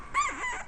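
Puppies in a house give a short, high whimpering yelp, a single rising and falling whine lasting under a second, close and fairly quiet.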